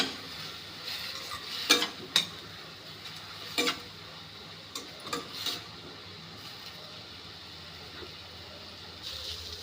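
Egg biryani masala being stirred in a frying pan, with a few distinct scraping clinks of a spoon against the pan over a faint steady sizzle, no talking.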